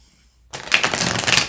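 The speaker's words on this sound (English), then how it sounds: "The last one wasn't a very good shuffle, so I'm gonna do it one more time." Tarot cards being shuffled by hand: after a short quiet pause, a dense, close riffle of card edges runs steadily for about a second, with no talking.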